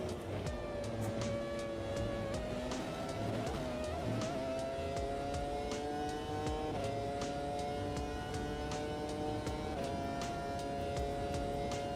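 A sim racing car's engine pulls steadily while shifting up through the gears, its pitch climbing and then dropping at each change, a steady drone for about twelve seconds.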